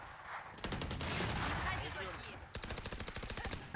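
Rapid bursts of automatic gunfire in the Valorant video game on the Pearl map, loud and close, with dense repeated shots across most of the clip, trailing into a quick rhythmic string of shots near the end.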